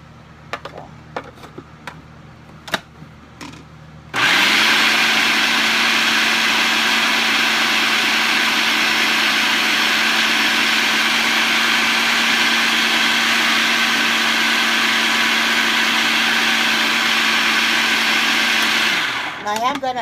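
A food processor blends a sunflower seed veggie burger mix with carrots, celery and potatoes. A few light clicks and handling sounds come first. The motor then roars in loud and runs steadily for about fifteen seconds before winding down.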